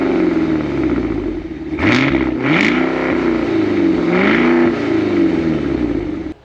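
A supercharged Cadillac Escalade V with a 2.65-liter TVS supercharger revs loudly and up close, rising in a couple of sharp blips and swells over a steady engine roar before cutting off at the end.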